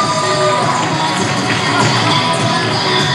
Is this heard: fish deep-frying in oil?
no